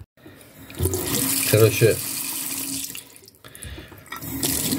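Water runs steadily from a kitchen tap as a paper banknote is wetted beneath the stream, a continuous close hiss with a brief splashing change midway, and someone speaks briefly over it.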